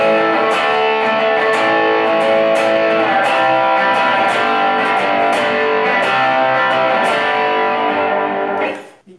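An electric guitar played through a distortion pedal, holding a thick, buzzing sustained chord that rings steadily at high volume for several seconds before being cut off abruptly, with no voices.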